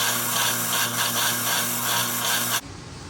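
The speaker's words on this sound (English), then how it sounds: "Take these spark plugs, take them over here and clean them up a little bit on the wire brush." Spark plugs from a 1965 Chevy Bel Air are scrubbed on a wire brush: a steady, loud whirring rasp with a constant hum that runs for about two and a half seconds, then cuts off abruptly.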